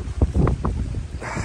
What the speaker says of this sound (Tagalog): Grabe, ang lakas ng hangin ngayong umaga.